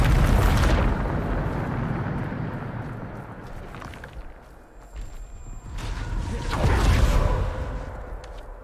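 Bombarda explosion spell in Hogwarts Legacy, a loud booming blast that rumbles and fades, followed by a second swelling whoosh-like burst, with no talk.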